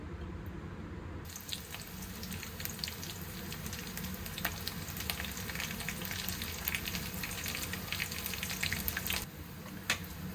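Bitter gourd (karela) frying in a pan, a steady, fairly quiet hiss of oil that rises to a fuller sizzle after the first second and holds until near the end, with faint stirring clicks.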